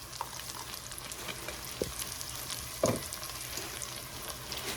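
Onion sizzles softly in a frying pan, a steady crackle with a couple of sharper taps from stirring or utensils, alone with no talk.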